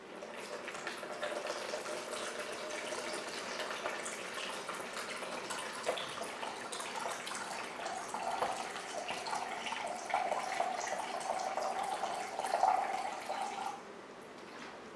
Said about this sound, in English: For the first, water into the jar